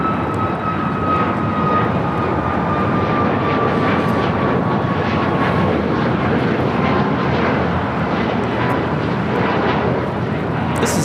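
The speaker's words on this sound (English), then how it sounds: "Taking off somewhere on a MAX 8" A United Airlines Boeing 737 MAX 8 jet takes off at LAX, its engines giving a steady, loud roar with a faint whine that drifts down in pitch.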